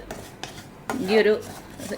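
Puttu flour being stirred while dry roasting in a pan, giving a scraping, rubbing sound of a spoon against the pan. It comes in soft bursts and grows louder near the middle, with no one speaking.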